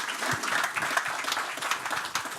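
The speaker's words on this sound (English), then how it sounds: "Applause for the first round here." A conference crowd bursts into applause after the opening round of a cryptocurrency debate, many hands clapping in a busy, uneven patter with a few sharper claps standing out, and no voices on top.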